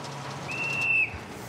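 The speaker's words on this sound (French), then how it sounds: "a entendu le sifflet du policier à temps et lâche prise." A police officer's whistle on a road in Burundi, one shrill steady blast lasting about half a second over a low background rumble, fairly distant.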